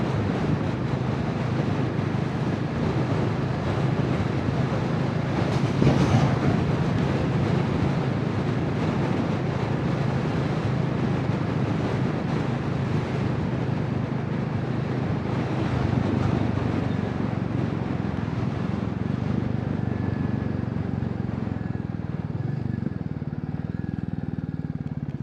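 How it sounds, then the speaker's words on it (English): A Royal Enfield Classic 350 motorcycle rides along Scottish country roads on a breezy day, a steady engine drone mixed with constant wind rush against the microphone, with no talking. "The weather today is just perfect for riding about in the motorcycle."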